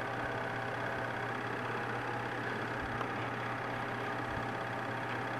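A vintage Bell & Howell Super 8 movie projector, fitted with a fresh belt, runs with a steady mechanical whir and faint motor hum, even and unbroken throughout at moderate level.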